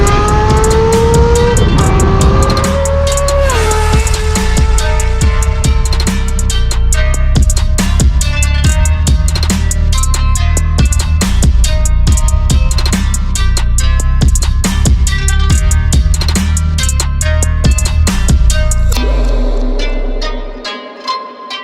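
A Honda CBX six-cylinder motorcycle engine revs hard and loud, rising and falling with sharp pitch sweeps and rapid gear changes, then cuts off abruptly near the end, heard alone with no voices.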